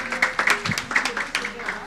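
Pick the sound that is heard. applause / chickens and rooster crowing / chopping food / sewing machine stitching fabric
applause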